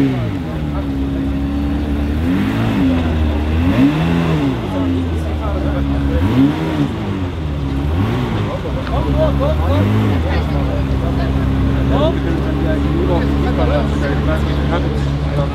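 A red Ferrari rolls into a 2021 Mercedes-Benz Museum car meet with repeated blips of the throttle, each rev swelling and falling in a wavy rhythm under a steady crowd murmur.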